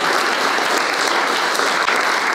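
An audience claps steadily and loudly for an illustrator at a zine fest, a dense unbroken wash of applause throughout.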